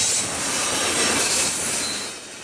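A very long CN freight train, Q115, rolls past a level crossing with a loud, steady broadband roar of wheels on rail and faint squealing, close by and unbroken.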